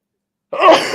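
A single abrupt sneeze bursts out close by after a moment of silence, short and forceful.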